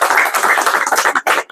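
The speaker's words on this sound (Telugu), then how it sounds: "ఒకసారి అక్కకు చప్పట్లతో" An audience at a gathering claps in a lively burst of individual hand claps, fairly close and loud, thinning toward the end with a brief gap.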